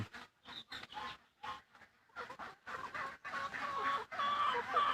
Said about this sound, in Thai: ไก่บ้านกำลังกินปวก